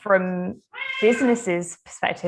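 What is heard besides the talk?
cat meowing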